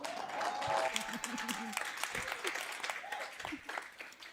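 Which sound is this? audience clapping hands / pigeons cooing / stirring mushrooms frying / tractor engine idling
audience clapping hands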